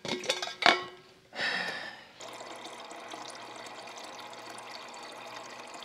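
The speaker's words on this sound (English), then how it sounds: "First, I'm going to fill up my water." Water running from a kitchen tap into a bottle or glass, preceded by a few clinks of dishes; the flow is steady and fairly quiet, close by, with no talking.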